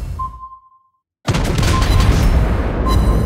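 A shell striking an enemy ship in World of Warships Blitz, fired from a Tier 5 German cruiser Königsberg. A sudden loud boom breaks a brief silence and then rolls into a sustained crackling rumble.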